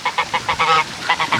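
Geese honk repeatedly on a farm pond alongside ducks, a rapid run of loud, close calls overlapping one another in an insistent, uneven rhythm.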